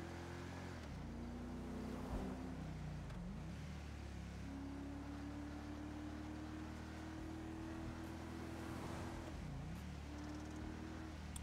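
A steady Dodge Charger engine drone in a video game, with rising and falling pitch as the car shifts and accelerates, continuous and fairly quiet throughout.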